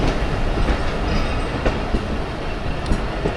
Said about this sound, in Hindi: वज़ीराबाद जंक्शन पे अप्रोच बना रही है ट्रेन हमारी 47 ऑफ रहमान बाबा एक्सप्रेस